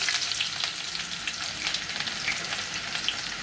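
Garlic dropped into hot soybean oil fries with a steady, dense sizzle and crackle, close and fairly loud, running throughout with no voices.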